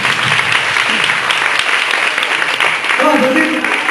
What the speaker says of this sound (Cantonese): 好，俾啲掌聲嚟先啦。